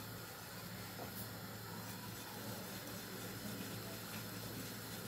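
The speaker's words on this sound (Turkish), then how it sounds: "Bulaşık makinesi çalışıyor." Faint, steady hiss and watery churn of a dishwasher running in the background, constant throughout with no voices.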